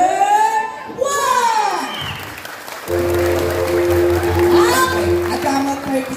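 Audience applause for a contestant at a Mr. Pogi pageant in Alcala, Pangasinan, a burst of clapping and crowd noise mixed with children's voices, shouting and talk, with a steady tone running underneath.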